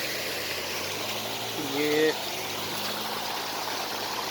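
A clear mountain stream runs down among large boulders in the Lodi Khel and Kachayi area of Khyber Pakhtunkhwa, Pakistan, making a steady rushing wash close by as someone speaks briefly over it.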